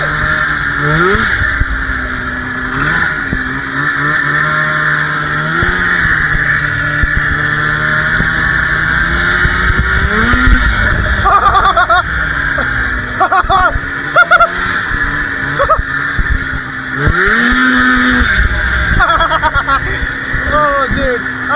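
A piped, rebuilt Yamaha Exciter 570 snowmobile tearing along at speed at night, its two-stroke engine screaming loud and close with rising and falling revs, joined by excited shouting voices at moments.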